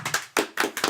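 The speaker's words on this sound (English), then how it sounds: "Just a fourth clap." Four sharp hand claps, unevenly spaced, ring out close and loud in quick succession with nothing else around them.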